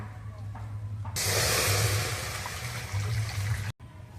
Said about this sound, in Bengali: কড়ার মধ্যে আমি জল দিয়ে দেব